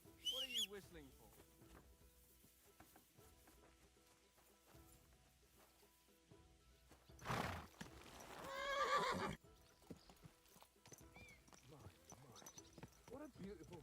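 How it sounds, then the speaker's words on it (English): A horse in the medieval video game Kingdom Come: Deliverance whinnies loudly, with one short neigh at the start and a longer one later, amid hoof clip-clops, birdsong and brief talk. "What a beautiful horse."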